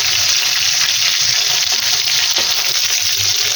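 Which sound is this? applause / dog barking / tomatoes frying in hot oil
tomatoes frying in hot oil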